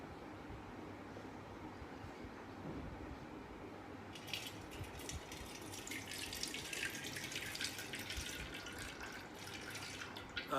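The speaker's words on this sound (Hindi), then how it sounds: "बर्तन के अंदर इसको पानी के साथ धोएंगे। थोड़ा सा पानी इनके ऊपर चलाएंगे हम।" Water pours steadily from a tap over dishes in a sink during a dishwashing liquid demonstration. It starts suddenly partway through as a continuous hissing splash over a quiet, hummy background, and no one speaks.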